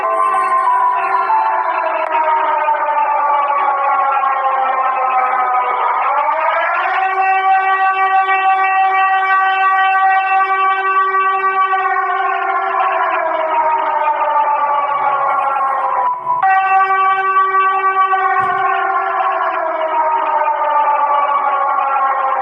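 A loud, continuous wailing siren from Siren Head in a mobile video game, with rich harmonics, sliding up and down in pitch, blaring steadily throughout with no pauses.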